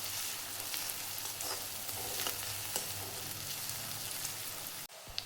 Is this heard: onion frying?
yes